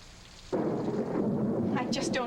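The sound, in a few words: rain and thunder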